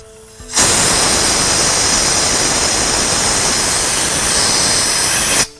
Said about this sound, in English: Engine side, we're just blowing out the lines, making sure that we've got everything clean there.